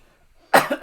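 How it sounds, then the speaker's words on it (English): A single close, loud cough breaks a near-silence, with a quick second hack right after. "Didn't mean to cough in the mic"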